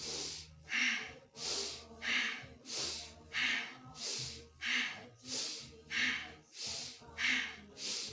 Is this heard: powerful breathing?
yes